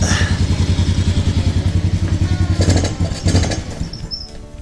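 A Honda TRX90 ATV engine runs close up with a rapid, rough, pulsing chug, loud throughout, before tapering off near the end.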